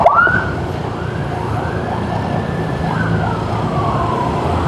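An ambulance siren wails, sweeping up and down steadily, loud and close, over the rumble of traffic.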